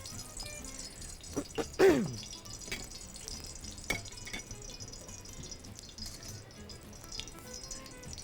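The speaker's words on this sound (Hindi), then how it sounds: "चलो जी, कुकिंग ऑयल डालेंगे थोड़ा सा।" A little cooking oil poured into a pan while making spicy keema kebabs with cream in a kitchen, a brief liquid trickle and drip near the start, then faint sizzling and soft clatter.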